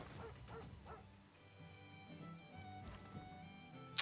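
Dog whimpering in the strategy game Civilization 6: faint, high yelps and whines scattered across a quiet game soundscape, with a sharp brief squeak at the end.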